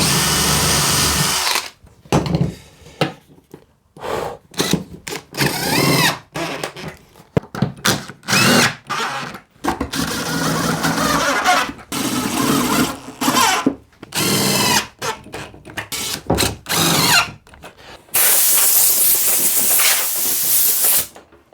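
Handheld router cutting and shaping the edge of an MDF computer desk worktop, loud whining bursts broken by short pauses, ending in a sustained hissing run; no talking.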